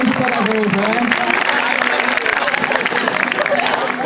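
An audience applauding after a church theater performance, continuous clapping and cheering from a crowd while someone speaks loudly over it.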